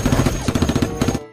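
Rapid bursts of gunfire from a gun in a dinosaur video game, a loud stuttering run of repeated shots over about a second, then cut off.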